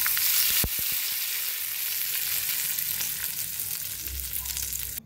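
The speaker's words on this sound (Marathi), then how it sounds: "आता गरम गरम फोडणी याच्यावर ओतूया." Hot tempering poured onto potato bhaji hisses in a loud, close sizzle that starts with a sharp burst and slowly settles into a softer crackle, with no voices.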